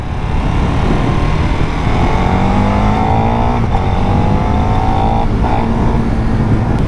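A KTM 1390R Evo motorcycle with a 1300 cc engine pulls hard under acceleration, a loud, steady drone whose pitch climbs in smooth sweeps that are broken by brief dips around gear changes.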